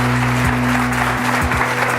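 A studio audience on a French talk show breaks into brisk applause to welcome a guest, with steady clapping over a low sustained tone and a few sliding musical notes underneath.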